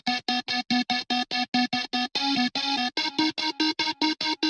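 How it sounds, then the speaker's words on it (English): A bright, buzzy synth lead from the opening of a song, played in short rhythmic stabs with a steady pulse of separate chopped notes, loud and alone with no voice. "One sound that I really like in the original track is this lead sound that plays in the beginning of the song."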